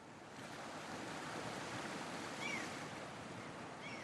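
Sea waves surging steadily with a broad, continuous wash of surf, moderately loud and close, with a slight swell partway through and no voices.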